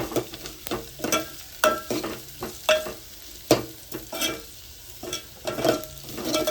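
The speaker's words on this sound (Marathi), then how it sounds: "लसणीचे आणि आल्याचे तुकडे टाकत आहे। थोडंसं असं परतून घेऊयात आपण।" Small pieces of garlic and ginger sauté in a pan for dal palak, close sizzling broken by repeated scraping, stirring strokes in an uneven rhythm, no voices.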